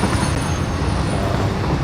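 Train in the game Satisfactory, hauling a load of sulfur, rumbling steadily as a continuous low rail roar with a faint high whine, close and unbroken, with no talk over it.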